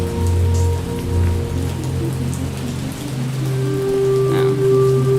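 Heavy rain pours down in a dense, steady wash of patter and splashing drops, loud and continuous, with a low sustained hum underneath.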